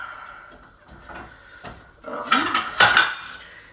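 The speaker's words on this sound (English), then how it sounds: "now I have to wash up my dishes again, but I've got dishwashing detergent" Dishes and pots being washed up with dishwashing detergent produce close clinks and clatters of crockery and cutlery, sparse at first and then louder and busier toward the end.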